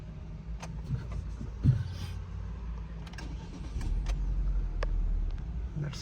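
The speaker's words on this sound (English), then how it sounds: "you can start the car" A 2022-2024 Chevrolet Captiva starts on a newly programmed flip key: small clicks and a brief rattle, then the engine catches and settles into a low, steady idle close by.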